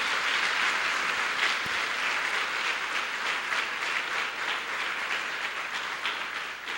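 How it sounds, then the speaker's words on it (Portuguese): Church congregation clapping steadily for the Lord, a dense, continuous wash of many hands filling the room without a break. "Aplauda o Senhor, aplauda Ele, aplauda o Senhor,"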